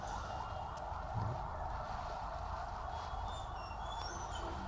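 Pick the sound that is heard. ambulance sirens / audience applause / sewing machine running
ambulance sirens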